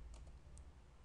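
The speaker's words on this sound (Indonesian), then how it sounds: "Maka kita ketikkan" Brief, faint clatter of a few keystrokes on a computer keyboard, close and quiet with no voice over it.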